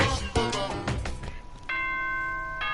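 Announcement chime from the video game Danganronpa: a string of bright, ringing bell-like tones struck in quick succession, followed by a sustained electronic chord that hangs on clearly, with no speech.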